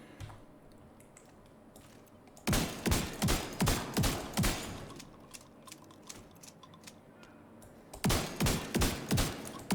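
SMG fire in the video game The Division 2 comes in two rapid bursts of roughly seven or eight shots each, punchy and close, separated by a quieter stretch of faint clicks and ambient game noise.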